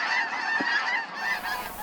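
Geese in Japan honking, a dense flock calling together in overlapping nasal honks, loud and fairly close, continuous throughout without speech.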